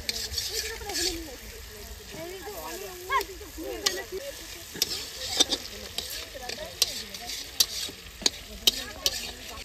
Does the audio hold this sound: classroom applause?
no